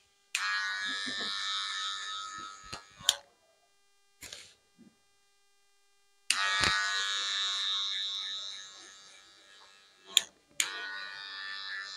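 An electric zero-guard hair clipper buzzing in two long bursts during a haircut and beard trim, close and steady, separated by short clicks and a quiet gap.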